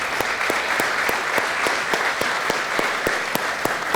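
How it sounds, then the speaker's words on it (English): Audience applause at a village board meeting, many hands clapping in a steady sustained patter with a few sharper claps standing out, continuous for the whole stretch with no talk over it. "round of applause, please."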